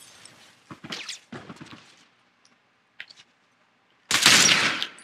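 Military rifle gunfire in The Last of Us multiplayer match on the Lakeside map, heard as a few short bursts early, then a loud, dense burst of fire near the end.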